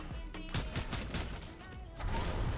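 Rapid bursts of video-game gunfire from Fortnite, repeated sharp shots landing close and loud in a dense, continuous volley with game effects layered underneath.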